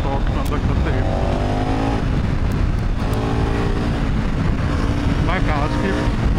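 A KTM motorcycle engine revs under throttle, a loud continuous roar with rising and falling pitch sweeps, buffeted by wind noise close to the microphone.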